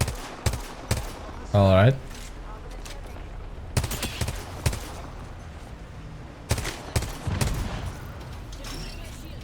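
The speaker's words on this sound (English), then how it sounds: "they're shooting at me" Gunfire in the video game Apex Legends: sharp individual shots and quick bursts scattered irregularly, moderately loud, with a player talking over the game audio.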